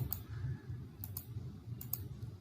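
Computer mouse clicks in Festo FluidSim: three short click pairs spaced about a second apart over a low room hum, with no talking.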